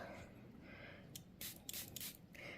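Several quick, faint hissing spritzes from a small spray bottle misting a sponge, short bursts close by in an otherwise quiet space.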